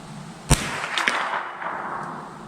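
A Ruger 10/22 rifle fires one sharp crack at an outdoor range, followed about half a second later by a faint metallic ring from a steel target set against a berm, with a quieter pop trailing after.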